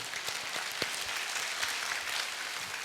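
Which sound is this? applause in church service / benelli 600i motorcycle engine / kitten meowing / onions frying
applause in church service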